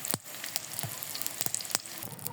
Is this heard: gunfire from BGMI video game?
no